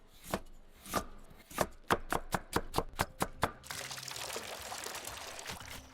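A knife dices fresh liangshu (jicama) on a cutting board in a run of about a dozen quick, sharp chops that grow faster. The chopping stops abruptly and a soft wash of liquid noise takes over.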